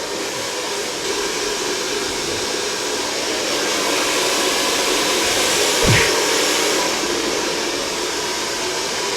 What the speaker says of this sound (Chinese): 你这样吹头发是可以的吗？